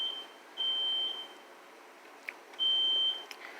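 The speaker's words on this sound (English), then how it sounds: "if you heard this fucking beeping because your fire alarm was going" A smoke alarm emits two long, shrill high-pitched beeps a couple of seconds apart, with faint clicks in a quiet room between them.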